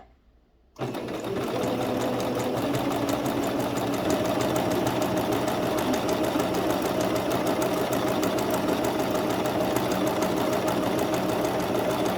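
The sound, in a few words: sewing machine stitching a sousplat cover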